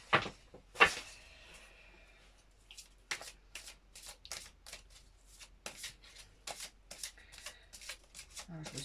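A large deck of cards handled and shuffled in a quiet room, with two sharp riffles at the start followed by a run of brisk, evenly spaced snaps and flicks.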